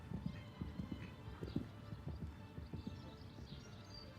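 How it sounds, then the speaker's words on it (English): Horse hooves in an extended canter during a Grand Prix dressage test at a European championship arena, giving a steady, rhythmic series of close, firm clip-clop strikes with a brief whinny-like sound amid faint background noise. "What a nice and lovely extended canter."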